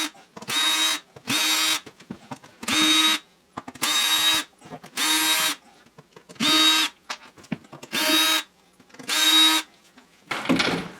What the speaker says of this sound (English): it looks like I'm going to need a screwdriver